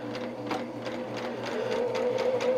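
A quilting sewing machine with a very sensitive pedal runs fast. It gives a steady, high-speed mechanical whir and rapid needle clatter that stay close and continuous throughout, with no talking.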